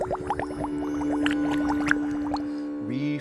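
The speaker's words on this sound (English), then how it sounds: "there was a crash and a happy bubbling" A cheerful cartoon bubbling effect plays alone, with quick rising blips and pops over a sustained musical tone, ending in a short warbling flourish.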